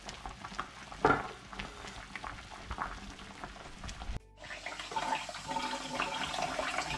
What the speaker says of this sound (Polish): wleję za chwilę do zlewu, zaleję sobie zimną wodą